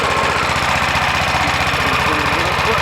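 Small engine on a portable gasifier, exhaust routed through an old oil cooler used as a muffler, running with a loud, steady rapid chugging pulse close up, no voices.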